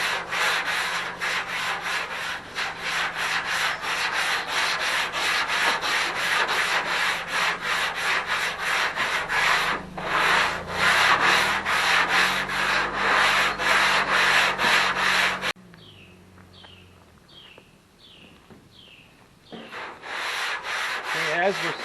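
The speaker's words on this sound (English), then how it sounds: "as we're sanding, again, as you seen in some of my other videos on this process" A sanding block works over guide coat on a panel during prime work, a steady loud rasping scrub in quick back-and-forth strokes, broken by a short quieter stretch of lighter scratchy passes before the strokes pick up again.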